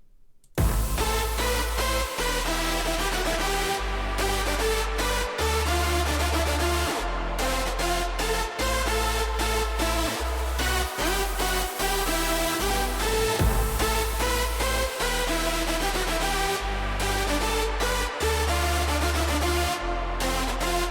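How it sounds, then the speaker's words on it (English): Hardstyle track with a lead synth recreated to match an original track, produced in FL Studio 20: loud, dense, continuous full mix with pounding kick drums and bright stacked lead chords throughout, no voices. "copied the lead sound as close as possible to the original one, and here is the result."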